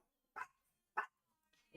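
Dogs in Roblox Adopt Me, three short sharp barks spaced about half a second apart, isolated against near silence.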